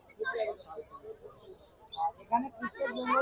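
Jumbo finches in a bird shop chirp and tweet in short, busy bursts close by, mixed with other small-bird calls, while a person talks over them throughout.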